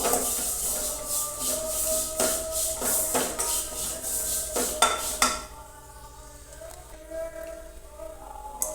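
Mango seed mukhvas is stirred with spices in a metal pan, a spoon scraping and clinking in quick repeated strokes, loud and busy at first, then quieter with a few scattered taps.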